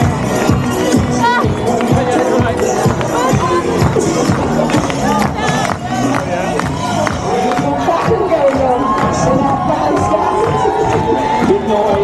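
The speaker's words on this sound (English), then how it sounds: "Beating the boards, clapping your thunder sticks," A dense London Marathon crowd roars and cheers along the course, with rapid clapping and banging of thunder sticks and boards, whoops and children's shouts layered into a constant loud din.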